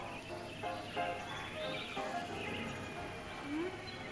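A horse in the Planet Coaster video game, in a Western-themed park, heard faintly under a busy ambient bed with some bird chirps and a soft rising neigh near the end.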